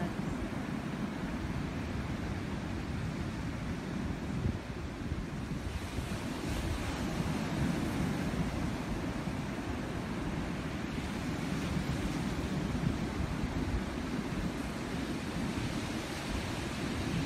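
Ocean surf breaking steadily on a beach, a continuous loud wash of waves with wind buffeting the microphone throughout, no voices.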